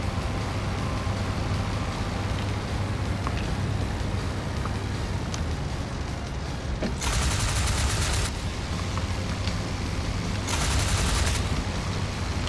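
Bursts of machine gun fire from a Fokker D.VIIf biplane in an IL-2 Great Battles dogfight, two short broadband volleys standing out over a steady engine and wind drone, each lasting about a second.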